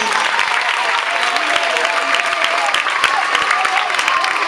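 A group claps steadily for a child named Léna at a school celebration of the International Day of Children's Rights, dense clapping at close range, lively and continuous without pause.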